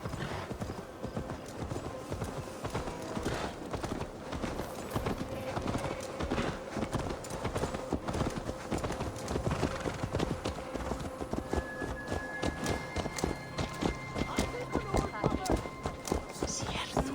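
Steady hooves clip-clop at a walking pace in Assassin's Creed Valhalla as a horse is led along, a continuous rhythmic clatter beneath characters talking.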